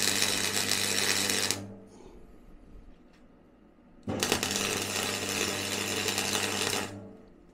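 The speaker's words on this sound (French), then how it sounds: "on va faire une petite soudure en angle comme ça." A semi-automatic MIG/MAG welder lays a fillet weld, giving a loud steady crackling buzz in two long runs with a quieter pause between them.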